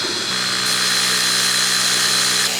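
A Creality Falcon 2 laser cuts through 21 mm fir wood at slow speed, heard as a steady, loud whirring hum with a high whine and fan noise, constant throughout with no talk.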